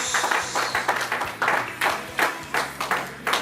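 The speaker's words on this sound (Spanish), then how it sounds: "Póngase en pie y denle un aplauso al Señor" A church congregation applauds during a service, pulsing in rhythmic bursts of clapping at steady volume over a low background hum.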